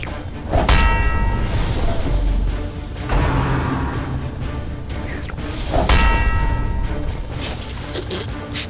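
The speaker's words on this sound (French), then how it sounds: "Excellent la cloche" A bell in the Darkest Dungeon video game strikes a few times, with bright metallic clangs recurring about every three seconds over a dense, loud game soundscape.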